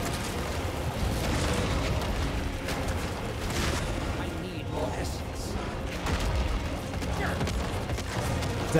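Corpse explosions in the Diablo 4 video game, a dense run of booming blasts and crackles piling up over game music, with a voice talking at points.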